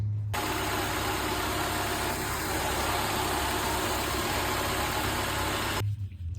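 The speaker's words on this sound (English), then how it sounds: "I'll insert a clip of what the engine sounds like now" A Honda Civic EK hatchback engine idles after timing belt work, holding a smooth, even hum at close range for several seconds with no voices over it.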